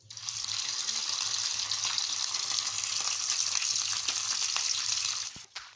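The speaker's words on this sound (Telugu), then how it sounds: "ఇప్పుడైతే ఆయిల్ అనేది వేసుకుంటున్నా చికెన్ అయితే ఫ్రై చేయడానికి." Chicken pieces frying in hot oil in a pan for a homemade chicken pickle, a loud continuous sizzle holding steady for several seconds before easing off at the end, with no talking.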